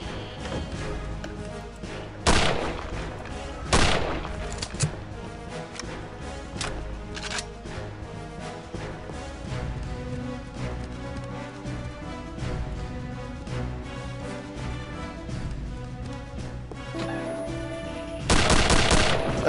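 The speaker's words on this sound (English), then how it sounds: "Stop shooting at me." Gunfire in the video game Return to Castle Wolfenstein, a long stretch of rapid, loud automatic shots and bursts layered over game music, with a few heavier blasts standing out, and no talking.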